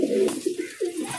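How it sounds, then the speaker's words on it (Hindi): Pigeons cooing at a pigeon market near Jama Masjid in Delhi, a few close, soft throaty coos repeating in short bursts over a low background murmur. "ये देख लो ये कबूतर है।"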